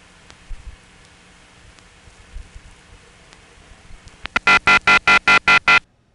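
A DMS-10 telephone switch sends a permanent signal tone down the line: after a quiet, faintly noisy stretch with a few soft clicks, a loud rhythmic pulsing tone arrives in about eight evenly spaced bursts.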